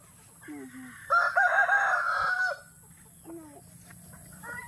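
A rooster crows once, loud and close, a long drawn-out call, with brief clucking and quiet voices around it.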